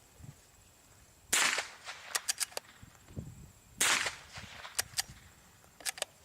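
Sharp .22 Short rimfire gunshots fired into a dirt berm outdoors: two louder cracks a few seconds apart, each followed by quicker, lighter snaps and echoes.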